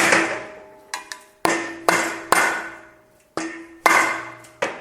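A mallet strikes metal while a polyurethane bushing is tapped into the suspension of a Jeep Willys. About nine sharp, ringing blows come at uneven intervals, each followed by a short metallic decay, close and loud, with no talking.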